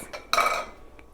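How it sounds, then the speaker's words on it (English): A spoon or whisk clinks and scrapes against a large bowl while cream cheese, powdered sugar and lemon juice are being mixed into frosting, with a few short knocks and one brighter clank partway through. "And I'll give that a mix."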